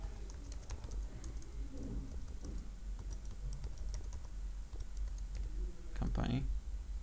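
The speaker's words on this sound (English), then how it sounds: "we can just go ahead and write the company name" Quick, irregular clicks of a computer keyboard as a company name is typed for a business card design in CorelDRAW, fairly close and moderately loud, with pigeons cooing softly in the background.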